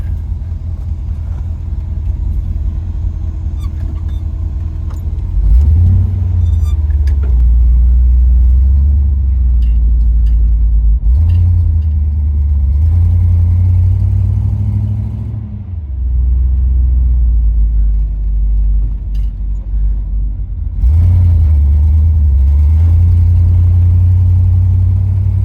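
Car with an LS engine swap out on a drive, a loud steady low rumble that swells in repeated waves as it accelerates and shifts, with no talk.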